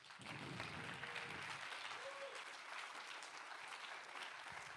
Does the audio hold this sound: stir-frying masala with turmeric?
no